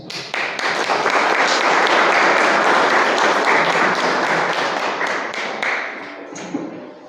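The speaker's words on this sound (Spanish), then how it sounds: "quiero que lo recibamos con un caluroso aplauso" An audience at a public forum on justice, truth and memory gives a warm round of applause, a loud, dense patter of clapping that holds steady and then tapers off near the end.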